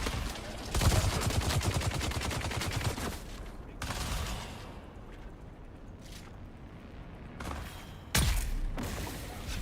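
Gunfire in the video game Dune: Awakening: a rapid burst of shots, then a single crack, a quieter lull, and another loud volley near the end.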